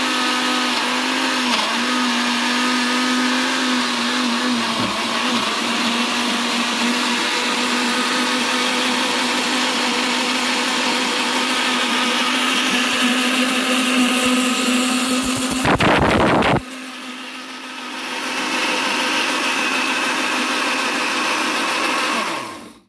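A mixer grinder blending green chutney with curd and milk, a loud steady motor whine running throughout, briefly cut off and restarted before winding down at the end.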